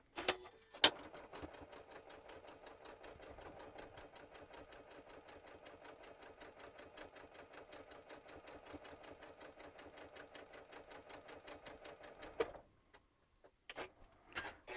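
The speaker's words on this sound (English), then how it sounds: "I'm going to sew a 1/4 inch seam allowance, and I've got my 1/4 inch foot in the machine" A home sewing machine with a quarter-inch presser foot sews a quarter-inch seam on a gnome Christmas quilted table topper, giving a quiet, rapid rhythmic ticking run of about twelve seconds, framed by brief clicks at the start and end.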